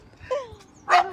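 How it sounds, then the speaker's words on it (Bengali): Dogs barking in a Bangladeshi neighbourhood, with two or three short barks and yips, the last one loud and close, and no talk over them. "কুত্তার ভিডিও করতেছি আমার। কুত্তাগুলো দেখেন আপনাদের এটা।"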